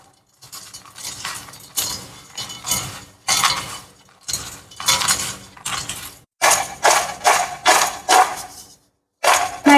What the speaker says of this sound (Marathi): आता हे आपण चांगला हाताच्या साहाय्याने मिक्स करून घेऊया।